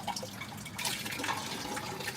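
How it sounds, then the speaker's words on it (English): Water poured through a freshly repotted orchid, splashing and trickling with dripping and liquid gurgles, steady and close throughout. "let me give it a couple run-throughs with water."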